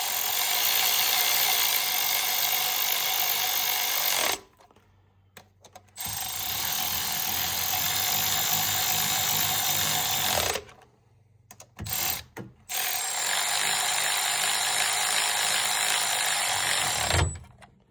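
Bolts on the spark plug ignition coils of a 2023 Equinox being snugged down with a ratchet, three long bursts of rapid, close clicking separated by brief pauses.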